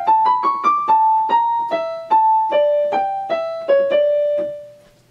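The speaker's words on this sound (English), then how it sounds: "The melody of the evil theme sounds like this." A solo violin plays the melody of the evil theme from a violin duet, Op. 98: about a dozen distinct bowed notes in a moving line over five seconds, ending on a longer note that fades out, with no voices.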